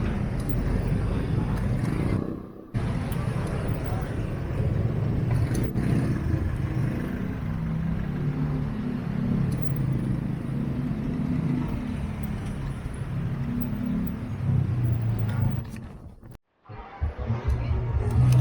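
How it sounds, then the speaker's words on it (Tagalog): Dense road traffic heard at night from an electric mountain bike: a steady rumble of car and motorcycle engines close by, rising and falling, with brief dropouts. "Sobrang traffic na."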